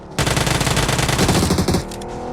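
A loud, continuous burst of rapid automatic gunfire in a shooting video game, rattling steadily for more than a second before cutting off.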